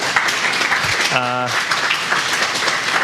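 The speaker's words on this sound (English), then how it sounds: "Let's make applause to our speakers." Conference audience applauding speakers after a talk, a broad steady patter of clapping across the whole stretch, with a short voice cutting in briefly near the middle.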